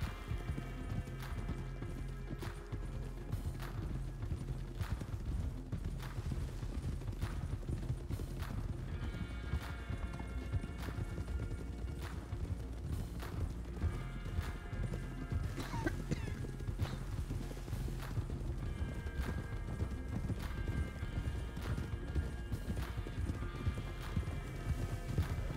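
A horse in the RedM Western roleplay game canters, its hooves clip-clopping in a steady quick rhythm throughout with an occasional whinny, loud and close, with no talk over it.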